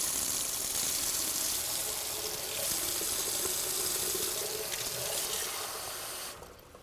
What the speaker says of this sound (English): we want warm water, which I do not have, so I'm going to get warm water here really quick.